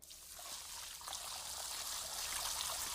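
Water pours and splashes steadily indoors in a house, a continuous stream that grows slightly louder over a few seconds.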